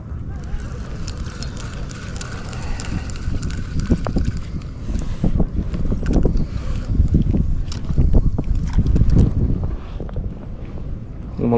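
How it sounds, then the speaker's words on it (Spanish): Strong wind gusts roar over a lake at the Santa Fe Dam recreational area during float tube fishing, a loud buffeting rumble across the microphone that swells and fades throughout. "lo malo es que ya está empezando a soplar fuerte el aire."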